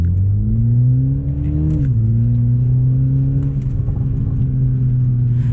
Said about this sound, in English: you could definitely hear some pops in the car, and it is loud